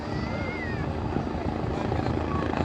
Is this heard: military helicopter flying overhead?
yes